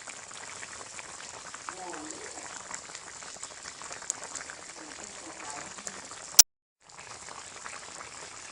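A pot of fish curry with pickled bamboo shoot bubbles at a gentle, steady boil, soft close-up gurgling and popping throughout, with a brief cutout near the end.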